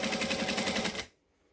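A sewing machine topstitches along a rolled seam edge in a close, rapid, rhythmic burst that stops sharply after about a second, leaving near silence.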